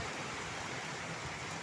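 Heavy rain pouring down outdoors, heard as a steady, even broadband hiss at moderate level with no breaks and no voices.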